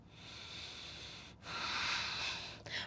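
Slow, even breaths drawn in and pushed out through the nose, a soft airy hiss that swells and fades twice, close and quiet with no talking.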